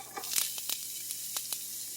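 Chopped onion hits a hot pan for a roasted bell pepper sauce, giving a soft steady sizzle scattered with sharp crackling pops, close and fairly quiet.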